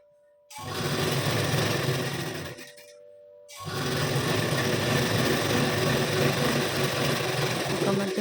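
Domestic sewing machine running steady bursts of stitching on a blouse, a few seconds of continuous whirring, a brief pause, then stitching resumes, close and fairly loud with no talk.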